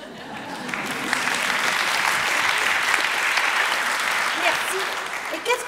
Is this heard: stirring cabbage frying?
no